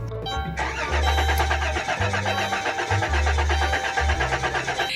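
A minivan engine cranks repeatedly in several long bursts, struggling to start, with a steady rough mechanical whir throughout, loud and close.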